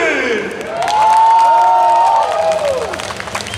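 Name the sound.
audience applause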